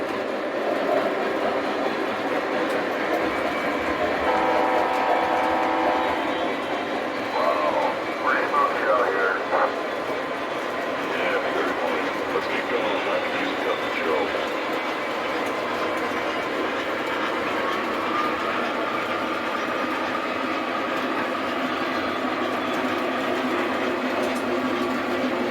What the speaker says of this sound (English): This is an MTH train engine with some of the MTH cars.